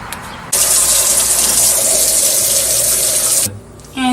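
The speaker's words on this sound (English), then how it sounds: "now I am going to put it in water to rinse off the bleach" Artwork being rinsed in a sink to wash off bleach: water runs loud and steady from a tap for about three seconds, then cuts off abruptly, followed by a brief quiet tail.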